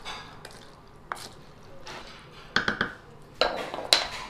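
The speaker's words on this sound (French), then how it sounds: "puis ensuite je vais mélanger le tout" Cream, onions, salt and pepper being stirred together in a dish for a pasta gratin: faint scrapes and soft wet clinks of a utensil against the dish, a few sharper knocks near the end.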